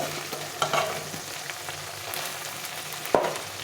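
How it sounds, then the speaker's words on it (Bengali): Potatoes sautéing in a pan for a fish curry with potato and brinjal, a low continuous sizzle under occasional stirring scrapes and one sharp clatter near the end. "এখন আমি এর মধ্যে আলুগুলো দিয়ে দেবো দিয়ে একটু কষিয়ে নেব"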